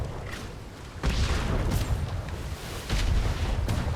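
Heavy ship cannons boom in a naval sailing-battle video game, several deep blasts landing roughly a second apart, loud and close over a rumbling backdrop.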